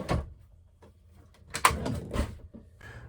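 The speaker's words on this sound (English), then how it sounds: "you can actually just pull these drawers out" Drawers in an RV are pulled out on their slides, giving a few short scraping and knocking bursts with quiet gaps between them, close by.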